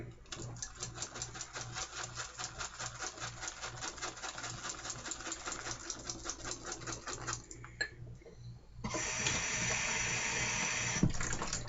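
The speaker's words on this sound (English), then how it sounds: "Need to add a little bit of water to that." Water from a tap runs into a soap mixture, a steady rushing stream that starts abruptly after a stretch of rapid mechanical clicking and continues close and fairly loud to the end.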